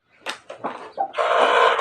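A domestic hen, settled with a chick to brood, gives a few short clucks close by, followed by a steadier rustling, scratchy noise toward the end.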